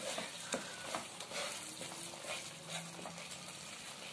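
Spices sauté in a pan for an egg dish, giving a steady close sizzle and frying crackle with occasional stirring scrapes and no talking.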